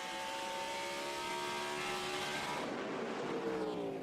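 NASCAR Nationwide Series stock cars racing in the 2008 Camping World RV Sales 200 in the closing laps, a steady, loud engine roar with a pitch sweep as cars pass near the end.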